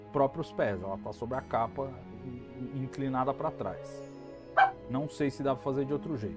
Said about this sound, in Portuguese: Peço desculpas pelo cachorro.